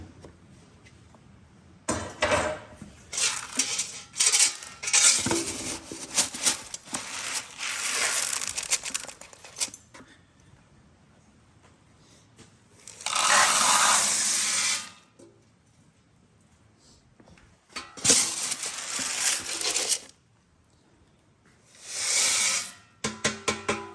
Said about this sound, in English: Now what I'm grinding here is just some commercial corn I bought.